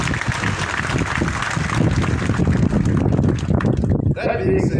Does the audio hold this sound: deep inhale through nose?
no